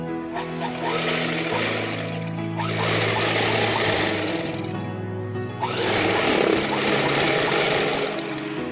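A sewing machine stitches a silk saree being made into a long frock, its motor whirring loud and close in steady runs with two brief pauses between them.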